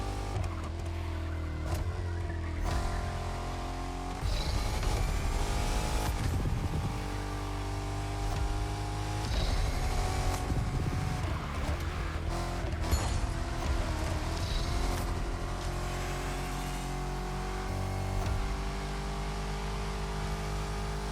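A Dodge Challenger SRT Demon in The Crew Motorfest revs hard through repeated gear shifts, its engine note climbing and dropping in several surges over a sustained low roar, loud and close with no talk.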